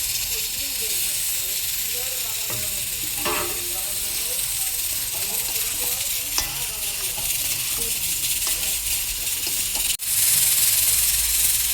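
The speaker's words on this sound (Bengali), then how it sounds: "এইবার ভেজে রাখা আলু সোয়াবিনগুলো দিয়ে দেব।" Fried potatoes and soybean chunks being stir-fried in a spice masala for an aloo soyabean curry, giving a steady close sizzle and hiss with occasional scraping stir clicks, louder toward the end.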